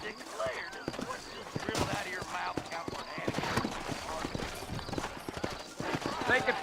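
Sturdy horses clip-clopping in the Western video game Red Dead Redemption, with a run of hoof beats, an occasional whinny and game dialogue voices talking over them at close range.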